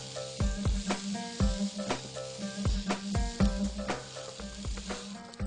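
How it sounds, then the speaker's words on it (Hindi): Paneer frying golden in a pan, a steady hiss of sizzling oil with repeated sharp clinks and scrapes of a utensil stirring against the pan, close and moderately loud, with no talking. "थोड़ा सा फ्राई करते हैं, आपने पनीर को थोड़ा सा गोल्डन करना है।"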